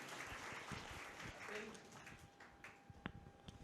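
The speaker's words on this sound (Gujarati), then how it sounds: "તમારી તાળીઓ પણ હેપી સાથે આપણે પાડી દઈએ." Audience applause at a public speaking event rises as a dense, even wash of clapping, then thins into scattered individual claps toward the end.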